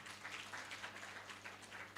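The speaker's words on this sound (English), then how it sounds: "Please let's put our hands together for them." Audience clapping at the opening ceremony of the 18th AFRIMETS General Assembly, a faint, steady patter of many hands applauding throughout, heard from a distance.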